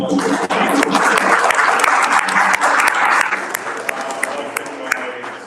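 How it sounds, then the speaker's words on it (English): An audience at an orchestra recital breaks into dense, sustained applause for a solo, with many hands clapping close and loud for several seconds before it thins out. "let's give Ryan a round of applause for a wonderful solo"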